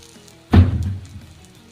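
Oil dripped into the holes and around a bajra dhapate on a hot griddle: a sudden burst of sizzling that fades out over about a second.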